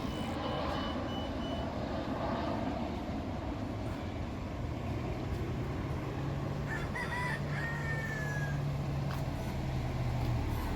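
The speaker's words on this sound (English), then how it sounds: "I step into the park to say good day to the roosters." Roosters crowing in a park in Key West, faint and distant over a low steady hum of traffic, with a brief reversing beep partway through.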